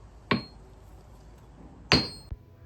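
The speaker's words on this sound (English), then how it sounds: "go ahead and hit that with the round side of your hammer" Two sharp hammer blows from the rounded face of a blacksmith's rounding hammer striking a lump of Play-Doh, each a single clear thud with a little ring, the second harder and followed by a small knock.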